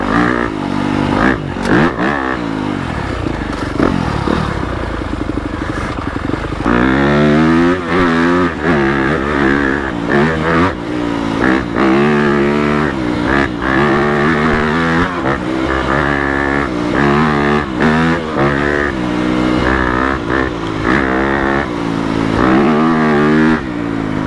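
Yamaha YZ250FX dirt bike fitted with a 270 big bore kit and stage 2 cams, revving hard while riding off-road over jumps and whoops; loud, continuous engine close to the rider, rising and falling with the throttle.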